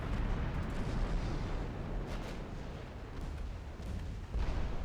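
Naval gunfire and explosions in the warship game Ultimate Admiral Dreadnoughts, heard as a dense, continuous rumble of distant booms with a few sharper bursts rising out of it, no voices.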